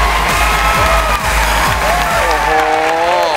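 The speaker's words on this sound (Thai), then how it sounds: "ขอเสียงปรบมือครับ" A crowd at the True Innovation Awards competition stage cheers loudly, with several high rising whoops and shouts over a dense roar of voices and possible clapping.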